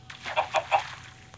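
Chicken clucking in Minecraft Pocket Edition, three quick close clucks in a row followed by a fainter short one, with no talking.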